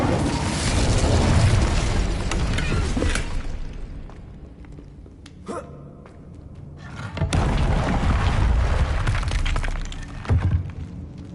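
Incendio fire spell cast in Hogwarts Legacy, a roaring burst of flame and crackling destruction that fades, then flares up again loudly for several seconds.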